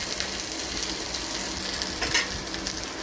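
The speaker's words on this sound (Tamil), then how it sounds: "வெங்காயம் நல்லா வதங்கட்டும்." Chopped onions, green chilli, ginger and curry leaves frying in oil in a small pan, a constant close sizzle with a short stirring clatter near the end; nobody speaks.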